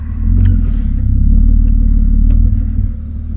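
BMW E36 convertible engine running with a jerky transmission, a steady low rumble that surges unevenly as the car shifts out of drive, close and loud with no talk.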